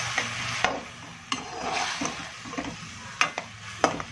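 Fried chicken with green chillies and yogurt is stirred in a pan, spoon scrapes and clatters breaking a low sizzle every second or so, close and moderately loud.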